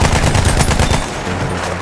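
Rapid automatic gunfire from the Battlefield 1 video game, dense bursts of machine-gun shots rattling loudly and continuously, then tapering slightly toward the end.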